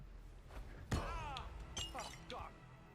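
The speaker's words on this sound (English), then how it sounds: "did my bust break? I hope it didn't. I heard it shatter." A marble bust in the Hitman video game shatters with a single sharp crash, followed by brief clinks. Someone talks quietly over and around it.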